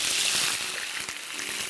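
Velveted beef tapa frying in a proper amount of hot oil, a steady close sizzle and hiss holding level for the whole moment.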